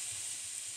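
Chicken searing in a hot pan, a steady close sizzle and hiss of frying meat with no talk over it, during the cooking of linguine with chicken in balsamic vinegar and cream.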